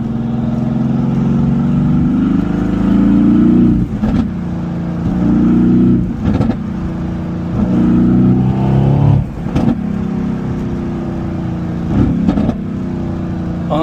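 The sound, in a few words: Mercedes-AMG GT S engine revving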